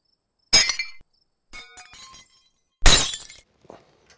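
A vase shatters indoors in two loud, close bursts of breaking glass-like ceramic, with scattered clinking fragments settling between and after the crashes.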